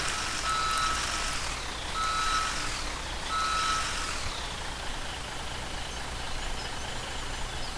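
Reversing beeps from a farm vehicle in Farming Simulator 17 sound in three evenly spaced pulses, each bright and steady, over a constant loud engine drone that keeps running afterward.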